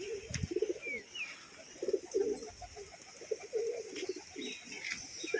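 Pigeons coo in repeated soft, throaty bursts, several birds close by including a young one, with a few faint chirps and wing flutters in the background.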